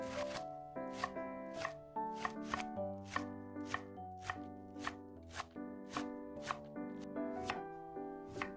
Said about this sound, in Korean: 먼저 배추는 겉에 5장 정도 벗겨서 깨끗이 씻어 주신 다음에 잘게 채 썰어 주세요